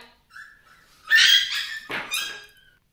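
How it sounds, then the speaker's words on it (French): A dog fights and barks up close in a home, letting out a few sharp yelps and whiny barks in a short, loud burst. "j'ai dû couper parce que j'ai le chien qui était en train de se disputer"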